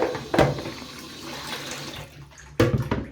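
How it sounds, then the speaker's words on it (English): A bowl is rinsed out under a running tap at a sink: a steady rush of water with a sharp splash near the start and another near the end. "Rinse this bowl out there."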